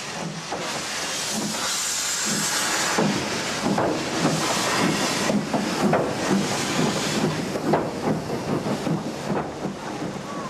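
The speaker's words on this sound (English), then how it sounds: "Working the downyard was Peckett Tank Gibraltar, operating a demonstration freight from the former Brill tramway platform." Peckett tank steam locomotive Gibraltar working a demonstration freight in appalling weather, with a steady loud hiss of steam and a rumbling, faintly pulsing background throughout.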